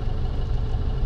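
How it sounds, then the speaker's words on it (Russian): A car engine idling smoothly and evenly after its mass air flow sensor has been cleaned, a steady low rumble with no break in rhythm and no voices. "Сейчас движок работает гораздо ровнее"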